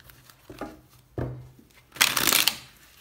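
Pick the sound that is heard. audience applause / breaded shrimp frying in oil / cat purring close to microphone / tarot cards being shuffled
tarot cards being shuffled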